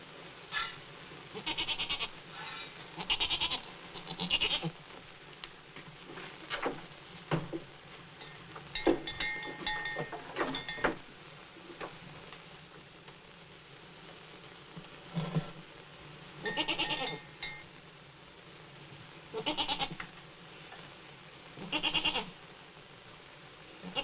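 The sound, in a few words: goat bleating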